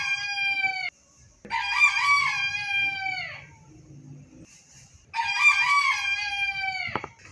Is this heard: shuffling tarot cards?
no